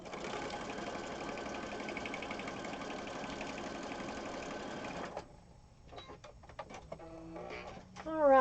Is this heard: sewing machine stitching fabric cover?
yes